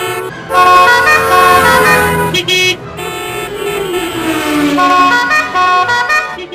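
Busy street traffic with car horns honking over and over, several overlapping toots of different pitches above a steady background of vehicles.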